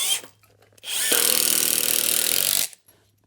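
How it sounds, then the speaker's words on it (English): A power drill drives a screw into a 2x4 while a DIY shelf frame is built: a short burst and then a steady, loud, close whir of about a second and a half that stops abruptly, with quiet pauses on either side. "remember when you're throwing in a screw, until the gap closes, you're not done screwing."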